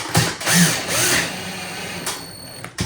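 A screw is driven tight into a Venetian blind mounting bracket, likely with a power drill, giving a couple of short whirring bursts early on, then quieter ticking handling noise with a sharp click near the end.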